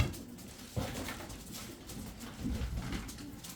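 Turkish tumbler pigeons from Kırşehir cooing in a loft, soft low repeated coos nearby over a background rustle, with no voices.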